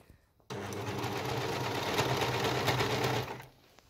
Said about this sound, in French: Aujourd'hui, couture de la combinaison. Premier surjet,